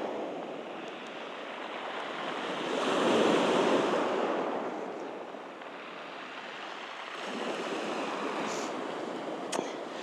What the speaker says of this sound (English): And this water and these waves, they're peaceful.